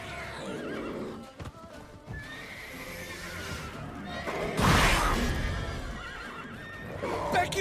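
Horses in The Witcher 3 whinny and neigh loudly, with a strong neigh in the middle, amid clip-clopping hooves and scattered thuds in a busy game scene.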